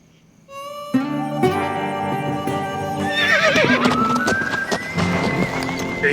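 A horse whinnies loudly and at length, its neigh rising and wavering, while hooves clip-clop close by under a busy outdoor mix with no talk.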